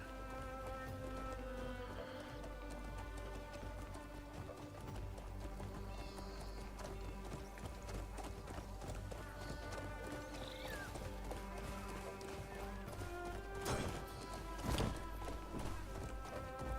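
Hooves clip-clop steadily on a hard surface as a horse walks, with a brief whinny and light background music throughout.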